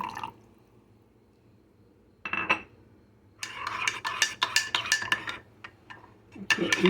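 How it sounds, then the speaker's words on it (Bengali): A spoon stirring onion in a bowl: a brief clink, then a burst of quick metallic scrapes and taps against the bowl, close and alone, with quiet gaps between. "ভালো মতো নেড়ে নিচ্ছি"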